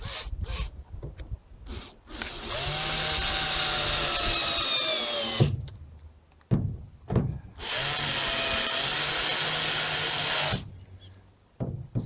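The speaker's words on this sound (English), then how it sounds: "So I'm not screwing it home" A power drill drives screws into the window frame of a 1966 Viscount Ambassador caravan in two long whirring bursts, close and loud, with short clicks and handling knocks between them.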